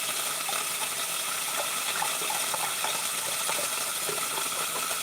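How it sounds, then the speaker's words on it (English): Chicken broth and water pour steadily into a cooking pot for grits, a continuous splashing gush with faint clinks, moderately close and without talk. "I'm putting 1 cup of chicken broth and 2 cups of water"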